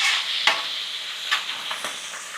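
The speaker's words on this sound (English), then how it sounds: "So we're gonna throw the rice in here." Rice hits a hot Weber Slate 36-inch griddle with a loud, steady sizzle and crackle. Several sharp scrapes of a spatula stir it, with no voices.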